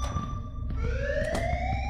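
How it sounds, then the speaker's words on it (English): A fire alarm wails in a Roblox horror game, a steady electronic siren with tones that glide upward, continuous and loud without speech. "you can pull the fire alarm"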